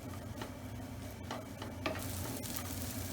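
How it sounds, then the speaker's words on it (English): Onion and capsicum cooking gently in a pan over low-medium heat, a steady soft sizzle with faint stirring scrapes, continuous and close, no voices. "All we're going to do with our onion and capsicum is cook it on a low to medium heat."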